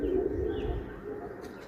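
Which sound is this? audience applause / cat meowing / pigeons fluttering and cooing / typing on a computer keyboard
pigeons fluttering and cooing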